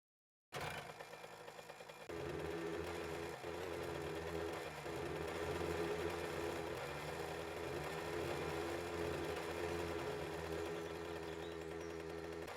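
Motorbike engine from the video game 7 Days to Die, a steady droning run that starts abruptly, shifts to a fuller, louder tone after a couple of seconds and then holds constant and close throughout.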